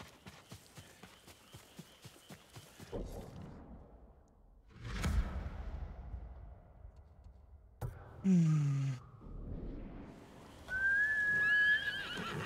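A horse neighs in the samurai action video game Ghost of Tsushima, with one clear whinny near the end among whooshes, hoof clatter and other game sound effects.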